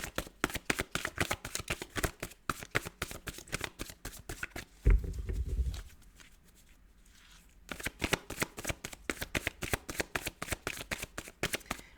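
Tarot cards shuffled in a steady run of quick riffling flicks, close and crisp, with a brief thump and a quiet pause midway before the rapid shuffling resumes.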